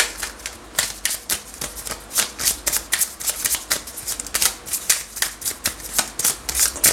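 Green Lenormand oracle cards shuffled by hand in quick rhythmic riffling bursts, close and fairly loud, repeating steadily throughout with no talking.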